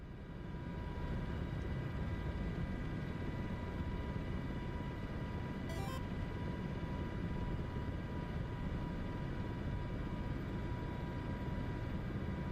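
An MH-60S Seahawk helicopter cruising at about 130 knots on a firefighting flight over Idaho, modeled in Microsoft Flight Simulator 2024, gives a steady, unbroken rotor and turbine drone with a constant tonal whine that holds level throughout.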